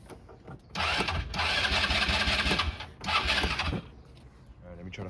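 A neglected 2010 Polaris Ranger RZR 170 engine cranks over in two long bursts of loud, rhythmic churning, with quieter pauses and brief mechanical clicks between them and no sign of firing.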